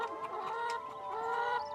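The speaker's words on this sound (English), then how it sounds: "There will be 150 chickens here" Rehomed ex-commercial hens clucking together in a flock, a busy overlapping chorus of close, chattering clucks and short squawks with no talking.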